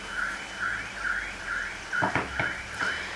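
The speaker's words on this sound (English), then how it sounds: "It sounds like a car alarm." A car alarm goes off outside in the rain with a repeating warbling whoop at a steady pulse, moderately distant, and a few sharp knocks in the middle.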